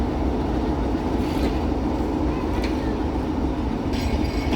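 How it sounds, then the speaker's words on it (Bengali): The Sundarban Express pulls out of Bhanga railway station with a loud, steady rumble of wheels on rails, broken by occasional clacks and faint squeals, close by and continuous. "সুন্দরবন এক্সপ্রেস এই মুহূর্তে ভাঙ্গা রেলওয়ে স্টেশন থেকে ছেড়ে যাচ্ছে"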